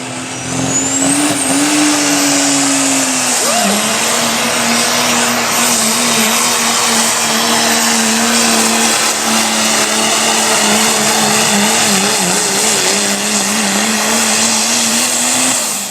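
A pulling truck's engine roars loud and continuous at a county fair truck pull in Boonville, Missouri, holding a strained, wavering high-revving drone throughout with tires spinning.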